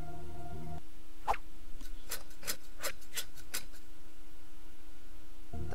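Rubbing with a grater in the video game The Inner World: a run of about eight short, raspy scraping strokes in an uneven rhythm over a quiet hum, with brief musical tones before and after.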